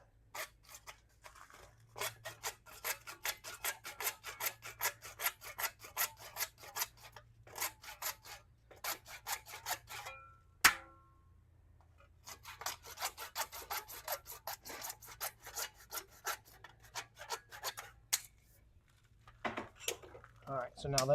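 Trimming and cleaning the freshly cut end of a PVC pipe produces repeated dry scraping and rasping strokes in rhythmic bursts, close and crisp, with a sharp knock partway through and a brief pause before the scraping resumes.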